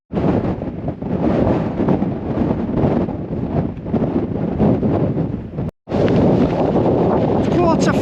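Strong wind buffets the microphone in a continuous, loud roar with gusty surges along a rail trail at dusk, briefly cutting out before returning just as hard.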